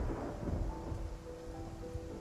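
A video-game thunderstorm at sea, with heavy rain and rolling low thunder forming a steady, moderately loud wash, a faint tonal hum running underneath.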